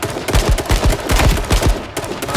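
Gunfire in the video game H1Z1, where a sniper rifle is in play: a loud, close burst of about a dozen sharp shots fired in rapid succession with no voices.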